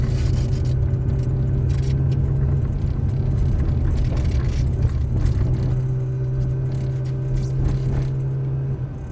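A Ferrari 430 rolls along slowly, its engine a steady close low hum and rumble inside the cabin, with faint mechanical creaks and clicks over the drone.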